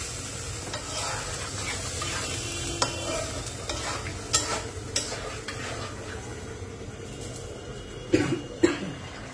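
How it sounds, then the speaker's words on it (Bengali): A person coughs from dried chilli fumes while curry cooks, several short, sharp coughs late on over a steady pan sizzle and stirring in a kitchen. "কাশি আসতেছে।"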